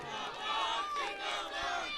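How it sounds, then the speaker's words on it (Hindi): A crowd at a BJP candidate's campaign rally in Fatehpur, ward 10, cheering and shouting together in a loud, sustained roar that swells and dips, close and dense. "सब जोरदार तालियां के साथ आवाज दो"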